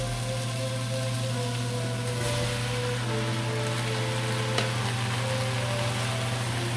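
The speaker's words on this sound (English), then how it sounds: "Give it a little stir." Breadfruit is stirred in a pot for oildown, a dense continuous sizzle and bubbling with faint stirring movement, steady and close, under a soft background tone.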